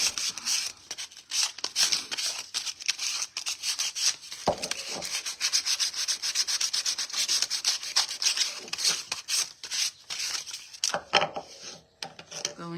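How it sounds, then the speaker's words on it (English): Small wooden bunny craft pieces are sanded by hand in quick repeated rasping strokes, close and steady, with a brief bump partway through and no talk. "And just come in and sand these little pieces here."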